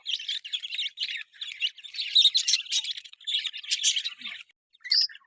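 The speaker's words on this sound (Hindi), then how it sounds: "ये ऑस्ट्रेलियन मशहूर तोते हैं" Australian budgie parrots chirping in a breeding setup: rapid, busy warbling chatter in bursts with short pauses, close and fairly clear, ending in a few brief calls.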